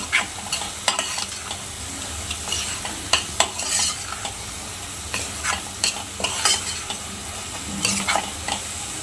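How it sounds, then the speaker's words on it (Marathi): Misal masala being stirred into softened tomatoes in a hot pan for matki misal, with a continuous sizzle and repeated spoon scrapes and clinks against the pan, close and without voices. "आता आपण त्यामध्ये मिसळ मसाला टाकूया आणि चांगलं पुन्हा मिक्स करून घेऊया"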